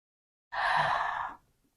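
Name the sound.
deep breath in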